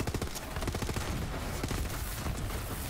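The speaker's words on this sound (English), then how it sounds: "This is such a good assault rifle." Assault rifle firing in the video game Borderlands 3, a continuous rapid burst of gunfire with dense, loud repeated shots throughout.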